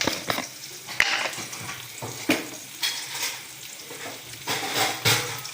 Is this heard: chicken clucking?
no